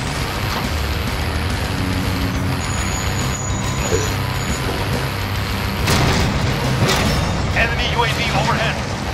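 Armored vehicle in the Warzone Armored Royale mode of Modern Warfare, a steady loud engine rumble with hissing and bursts of gunfire and explosions, continuing under players talking throughout.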